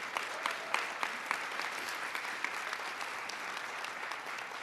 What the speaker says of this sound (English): Please give Claudia and her team a round of applause.